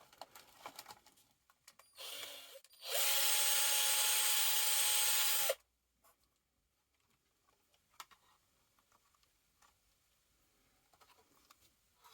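A small power drill enlarges holes in the plastic light housing of an MN82 RC car, a couple of seconds of loud steady whine after brief handling taps, then scattered quiet clicks and fiddling with parts.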